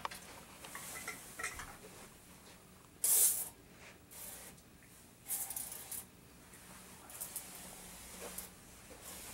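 A sprayer applies Cimi-Shield bed bug treatment inside a hotel room, giving short hissing bursts, one sharp and loud, amid light clatter and handling noises, with no talking.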